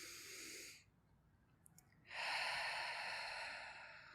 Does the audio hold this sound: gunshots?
no